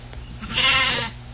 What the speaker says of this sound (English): All the sheep and the curlews and the crows.